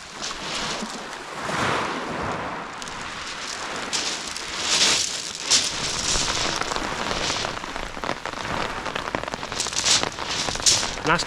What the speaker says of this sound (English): Nasty bit of rain now. Just moved in